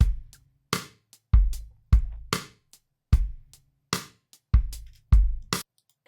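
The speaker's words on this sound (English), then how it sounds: "Rose for modern R&B, which would sound like this." Modern R&B drum pattern from a Logic Pro virtual drummer: deep booming kicks and crisp claps or snares in a sparse, syncopated groove, loud and dry with gaps between hits, no voices.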